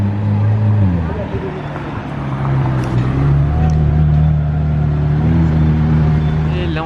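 A McLaren car engine hums low and steady in Monaco as the car sets off on a test drive, a continuous rumble with a shifting pitch, heard under someone talking.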